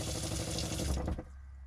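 Water from a faucet on a cruise ship runs in a steady close rush for about a second, then cuts off sharply, leaving a quiet low hum.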